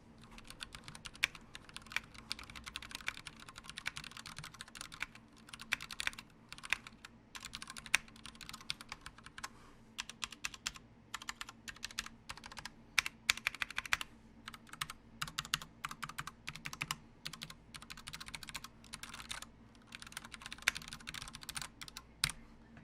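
A Ducky One 2 TKL mechanical keyboard is typed on steadily, with rapid, crisp key clicks in uneven bursts and short pauses, close but quiet and with no voices.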